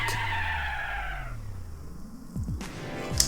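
A car in a 2004 racing video game brakes hard and skids, its engine note dropping away beneath a sustained tire screech, followed by a couple of short scuffing bursts near the end, loud and close with no talk.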